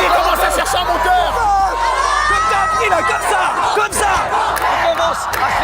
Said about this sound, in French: Il commence à se faire acclamer par la foule.